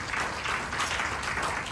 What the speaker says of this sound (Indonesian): Yang setuju dengan saya beri tepuk tangan yang meriah lagi.